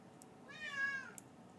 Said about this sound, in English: She only meows when I'm having a bad time.